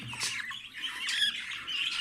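A small albino budgerigar squawks and chatters in harsh, rapid bursts, close by and fairly loud, with no talking.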